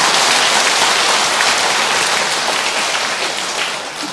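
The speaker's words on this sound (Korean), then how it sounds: "박수 한번 더 쳐야 돼서." Sustained audience applause at a Buddhist dharma assembly, a dense, even wash of many hands clapping throughout, loud and close, fading slightly at the end, with no talk over it.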